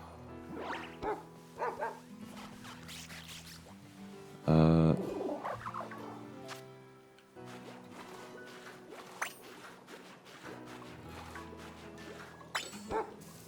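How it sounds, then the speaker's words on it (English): A dog Pokémon being washed in Pokémon Scarlet gives several short barks and yips, a brief loud scrubbing burst midway, and more scattered yaps, all fairly close and free of talk. "Let's wash the dog."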